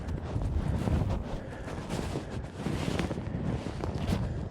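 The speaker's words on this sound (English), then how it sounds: "It is windy." Strong wind gusts buffet the microphone among the ancient stone ruins of Hattusa in Turkey, a continuous loud roaring rush with no talking.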